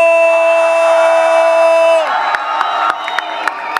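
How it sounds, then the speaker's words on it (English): Loud crowd at a boxing Q&A for Taylor vs. Serrano, with a Puerto Rican section, roaring and cheering; a sustained tonal blare cuts off midway and sharp shouts and claps spike through the noisy din. "The crowd is already electric"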